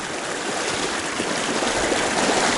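A mountain creek, Glacier Creek near Leadville, Colorado, rushes steadily and close by, a continuous broadband wash of flowing water with no voices.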